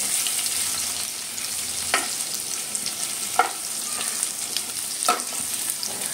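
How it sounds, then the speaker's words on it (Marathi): Crushed garlic sautés gently in a hot pan with a soft, continuous sizzle, broken by a few distinct spoon scrapes and taps spaced a second or so apart. "जरा लसूण गोल्डन ब्राऊन होईपर्यंत हलकं परतायचं।"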